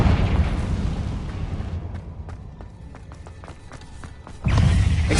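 A Confringo blasting spell from Hogwarts Legacy goes off as a loud, close explosive blast that fades through a rumbling tail with scattered crackles and debris clicks, then a second heavy burst lands near the end.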